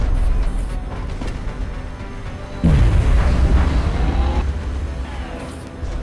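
In the X-Com video game, a weapon fires with a single heavy, booming blast partway through, over a steady rumbling game background, with no talking.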